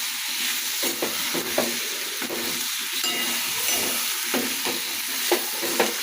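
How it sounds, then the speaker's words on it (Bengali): A spice paste of ground coriander, ground cumin and ground ginger frying in a pan, a continuous close sizzle with regular spatula scrapes as it is stirred, and no voices. "ভালো করে মশলাটা কষিয়ে নিই।"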